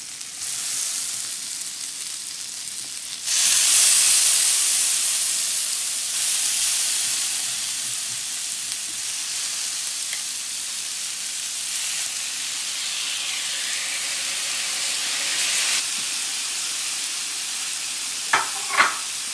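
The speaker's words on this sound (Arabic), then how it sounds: "وبتبقى جايه بقى صوتها السيزلينج بيسموه، بيبقى صوتها عالي قوي" Beef fajitas sizzling in a hot cast iron pan, a steady loud hiss and crackle of frying meat that swells as more goes in, with a couple of brief clinks near the end.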